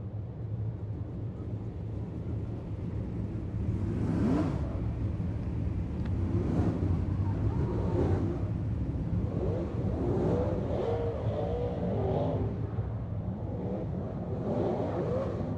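Winged sprint cars race around Silver Dollar Speedway during the Fall Nationals, a steady engine roar swelling and fading as several cars pass close by in succession.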